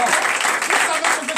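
A church congregation at a night deliverance and prophecy service claps and cheers together in a dense, steady burst of applause, close and loud, with voices mixed into the clapping.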